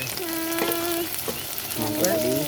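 Prawn kuzhambu ingredients with curry leaves and drumstick sauté in an earthen clay pot, sizzling steadily up close while voices talk over the cooking.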